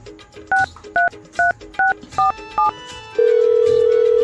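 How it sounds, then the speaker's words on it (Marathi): A phone number is keyed in as six crisp, evenly spaced touch-tone beeps, followed by a long, steady tone, all loud and close with nothing else over them. "मला फोन लावा लागेल"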